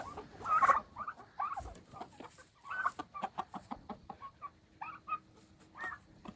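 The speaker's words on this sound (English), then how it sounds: "let's get these turkeys fed" Turkeys at feeding time cluck and gobble in a rapid, uneven series of short calls, fairly close and moderately loud, with soft rustling in between and no talk.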